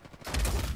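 A sharp gunshot burst from the Uncharted 4 multiplayer video game, one short loud report that swells quickly and holds briefly with no talk over it.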